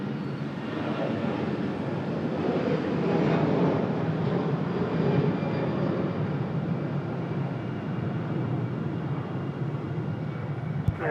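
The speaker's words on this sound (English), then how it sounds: "We'll find out now with our first departure here of the Delta A321." A Delta Airbus A321 departs the runway at Raleigh-Durham International Airport, its loud, steady jet engine roar sustained throughout, swelling slightly midway and lingering as a broad rumble with no talk over it.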